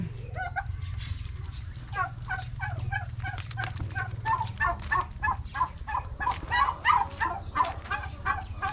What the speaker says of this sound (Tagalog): ayan ang ating mga pabo kinulong na po namin sila kasi ano eh naninira ng mga halaman